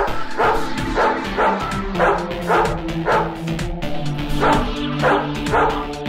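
A dog barks repeatedly in a TV commercial, loud rhythmic bow-wow barks about every half second over a steady music bed, close and prominent throughout.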